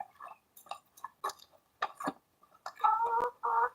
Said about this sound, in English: bird is a chicken.